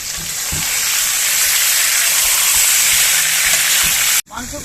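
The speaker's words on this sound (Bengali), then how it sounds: "কড়াই গরম হয়ে গেছে এবং তেলও গরম হয়ে গেছে। আমি এবার মাংসগুলো ছেড়ে দিয়েছি।" Chicken pieces fry in hot oil in a kadai for a dhaba-style chicken curry, a loud, continuous close-up hiss and sizzle that holds steady for about four seconds before cutting off abruptly.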